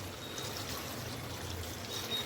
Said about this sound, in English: And I will add a lot of water so that it covers the stew,